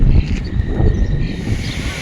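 Wind blowing outdoors in a park, a loud continuous low rumble buffeting the microphone in gusts, with faint rustling above it and no clear voices.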